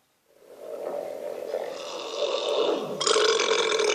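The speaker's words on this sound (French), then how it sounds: "Et l'autre il rote." A long, loud burp rumbling for several seconds, growing rougher and stronger toward the end, heard alone without talk.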